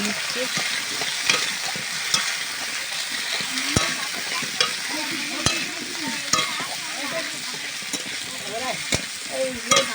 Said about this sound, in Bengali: আলু তুলে দিয়ে একটু নেড়ে নিতে হবে ভালোভাবে